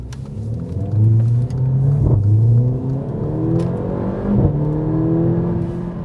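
A Mercedes-AMG A45 engine in Sport Plus mode, a loud close growl that rises and falls through several revs, its harmonic tones sweeping up and down, with sharp crackles at two points.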